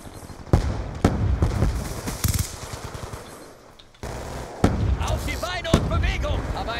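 Rapid automatic gunfire rips through a house wall in the multiplayer video game Call of Duty Black Ops 2, loud bursts of shots in two clusters separated by a brief lull, with game effects around them.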